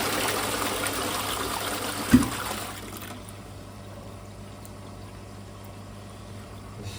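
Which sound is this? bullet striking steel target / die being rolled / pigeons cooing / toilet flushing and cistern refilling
toilet flushing and cistern refilling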